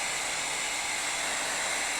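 A heat gun blows steadily across poured acrylic paint, giving a close, even, hissing airflow with no breaks.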